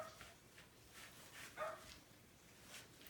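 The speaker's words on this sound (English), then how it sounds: "It's my doggies. I'm sure you guys can hear that." Dogs bark a few times in short, faint bursts from another room, spaced irregularly over a quiet background.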